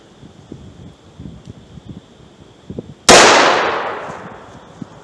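A single loud gunshot of a 158 grain Federal Hydroshock round fired into wood, a sharp close crack with a long decaying echo, after quiet handling rustles.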